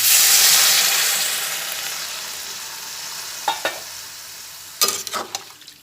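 Water poured into spiced beans frying in a pan: a loud hiss and sizzle that fades over several seconds, followed by a few brief clatters of stirring.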